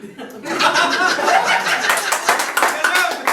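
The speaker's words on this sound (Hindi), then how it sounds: "ये बहुत ताली बजा रहा है" Scattered audience clapping mixed with chuckling and laughter at an open mic comedy show, moderately loud and fairly steady throughout.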